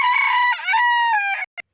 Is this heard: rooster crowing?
yes